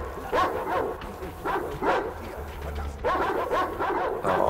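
A dog in the video game Metro Exodus barks and yips in repeated bursts, close and loud, with whimpering tones between the barks and no speech.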